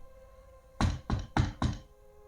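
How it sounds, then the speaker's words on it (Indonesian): Four firm, evenly spaced knocks land on the door of a house, loud and close, over a faint steady hum. "Pak Sudin mengetuk pintu rumah dan mengucapkan salam di rumah Pak Ustadz"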